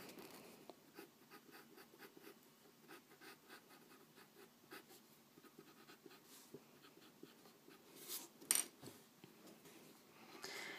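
A 4B graphite pencil shades and darkens spots on paper in soft, repeated scratchy strokes, quiet and close, with a brief louder scrape near the end.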